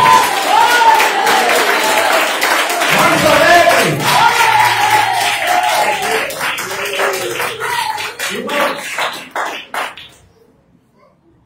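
A church congregation claps and cheers at a service, loud mixed clapping and shouting voices that carry on strongly, thin out toward the end, then stop. A voice briefly speaks over it.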